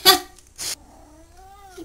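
A pet cat gives a short drawn-out meow with a rising and falling pitch, preceded by two brief noisy bursts, close and fairly loud.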